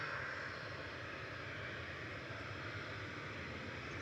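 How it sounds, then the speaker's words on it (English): A Boeing 737-800 airliner departing Manchester Airport, a steady broadband jet roar that holds at an even, moderately distant level throughout with no talk. "GRUKA departing 737-800."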